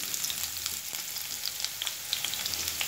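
Chopped garlic sizzles in hot oil for a Bengali-style broccoli dish, a steady close frying hiss dotted with small crackles and pops, no voices.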